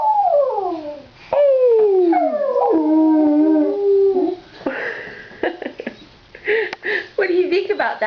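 A pet dog howls in long, rising and falling wails, coaxed into singing, with several sustained howls followed by shorter yips and whimpers as people talk and cheer nearby.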